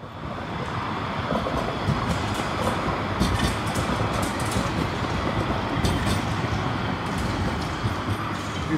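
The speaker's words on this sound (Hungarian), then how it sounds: "Itt ilyenkor még nem is jár villamos, de hát dehogy nem." A Budapest tram rolls past on its tracks at night with a loud, sustained rumble and repeated wheel clatter, alongside metallic squeals and clicks from the rails, and no talking.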